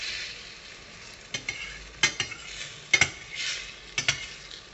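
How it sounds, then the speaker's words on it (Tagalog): A utensil stirs beaten egg into gravy with cooked luffa in a frying pan, giving soft sizzling under scattered light scrapes and clicks of metal on the pan. "Kailangan natin i-mix yung itlog sa gravy."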